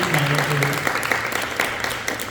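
An audience at a Rock the Ballroom show claps for a vocalist, a thick patter of applause that mixes with a voice talking over it for a couple of seconds.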